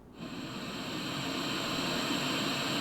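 Steady broadband ocean-surf wash from a portable white noise machine, a constant hissing roar with soft rolling texture that fades in quickly and holds at an even level, no voices.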